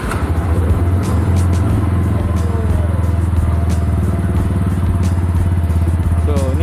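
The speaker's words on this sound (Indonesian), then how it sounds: "So ni adalah bunyi motor dia." A GPX Demon GR200R motorcycle engine runs steadily and loudly up close after being started, with a continuous low rumble and a slight rise in revs near the end.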